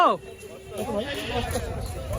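A single goat bleats near the start at a livestock market, a short wavering cry, followed by murmuring voices and background chatter.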